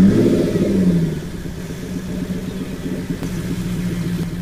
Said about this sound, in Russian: Маша попробует завести свой пикап